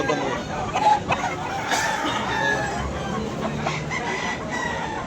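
Chickens cluck and a rooster crows amid a busy, noisy background of murmuring voices at a poultry market in Tabunok, Talisay, Cebu, with the birds heard clearly throughout.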